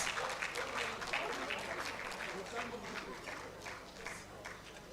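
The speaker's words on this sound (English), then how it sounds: "Can we give a very big round of applause to all the conferees and their" Applause from conferees and their spouses at an evening fellowship conferment ceremony, a steady wash of crowd clapping heard from a distance, fairly faint and continuous.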